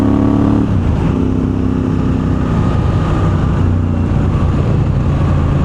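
A 2024 Honda Africa Twin CRF1100 motorcycle fitted with an aftermarket full race exhaust runs with a loud, deep, growling engine drone. The pitch shifts as it revs, heard up close and continuously, with no voices.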